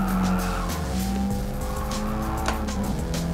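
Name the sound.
car skidding in Gran Turismo Sport VR video game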